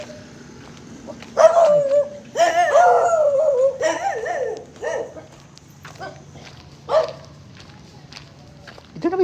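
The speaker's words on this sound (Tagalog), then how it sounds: "Tingnan na may mga aso." Dogs bark and yelp at a night market, several loud close outbursts in quick succession followed by a softer bark, over faint crowd murmur.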